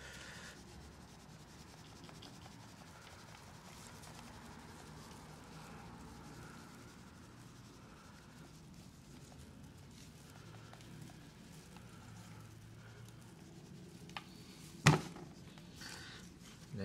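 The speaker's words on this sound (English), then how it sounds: "we're gonna apply a generous amount of rub" Spice rub being applied to beef tongue before smoking on a Workhorse 1975 pit, heard as soft, steady rubbing and sprinkling that runs throughout, with a sharp louder knock near the end.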